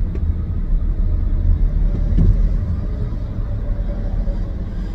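Steady road traffic of cars and trucks rumbles close by, a continuous low engine drone with slight swells as vehicles move past, no talking.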